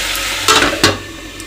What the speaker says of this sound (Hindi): मैं पहली फोरन दे दे लहसुन मिर्चा और प्याज के